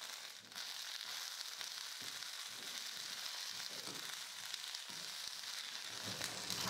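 Peanuts and roasted gram dry roasting in a pan give a faint, steady hiss with soft scattered crackles and occasional light scrapes from stirring, no voices.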